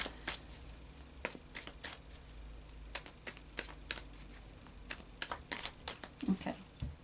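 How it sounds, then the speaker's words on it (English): Cards being shuffled in repeated riffling bursts, crisp and close, with short pauses between shuffles and no talking. "just going to carry on shuffling for 2 minutes"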